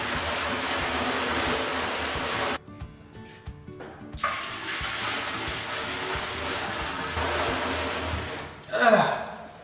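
Nine litres of water gush loudly and continuously into a vat, with a brief break in the flow midway and a sloshing splash near the end.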